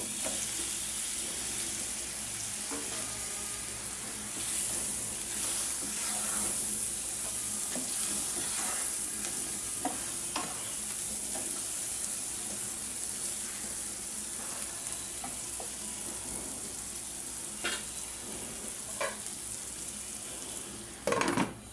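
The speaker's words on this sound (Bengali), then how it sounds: "এখন এই মশলার মধ্যে আমি চিংড়ি মাছটা কষায় নেব" Prawns fry in a spice masala for an eggplant bhuna, a steady close sizzle with scattered stirring scrapes and clinks running throughout, no voices.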